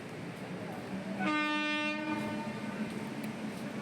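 A train horn blares loudly for about a second over a steady rumble of station noise, with a lower tone lingering briefly afterward.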